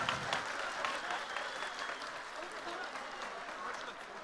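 Faint, steady round of clapping from an audience at a Brazilian political party convention, a continuous patter of many hands lasting several seconds.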